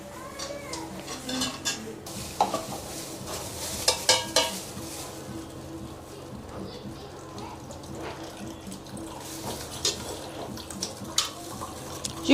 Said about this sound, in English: So right now I'm going to strain out the water.